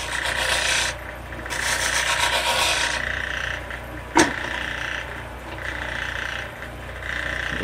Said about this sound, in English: they call this a spindle roughing gouge, but you can do some pretty fine work with it